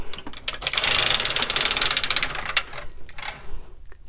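A KX350 or LK150 knitting machine carriage slides a row back across the needle bed with a continuous loud ratcheting clatter that eases off toward the end, with no talking.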